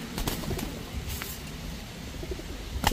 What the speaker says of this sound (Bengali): টোটাল 3 পেয়ার কবুতর, 3 কালারের কবুতর